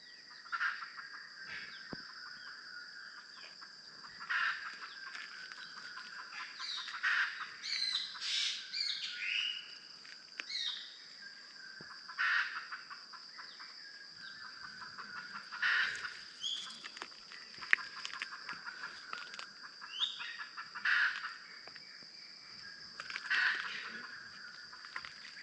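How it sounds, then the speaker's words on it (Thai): Wild junglefowl hens and chicks call outdoors, with repeated squawking clucks every few seconds over a constant high chirping and insect-like buzz, moderately close and with no talk. "ไก่ป่าตื่นนะไก่ป่าทั้งไก่ลูกไก่แม่นะ"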